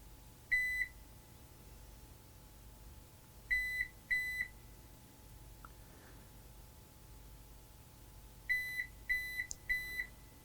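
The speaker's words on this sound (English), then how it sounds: "After it blinks 3 times, it's going to make a little happy tone." A Tire Linc tire-pressure repeater sounds short bright electronic beep bursts during pairing: a single beep, then a pair, then three quick beeps in a row, clean and isolated against a faint steady hum.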